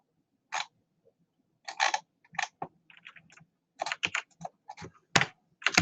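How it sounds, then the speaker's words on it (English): Computer keyboard typing in uneven bursts of crisp, close clicks separated by short pauses, with a quiet background and no speech. "I'm going to type this right here."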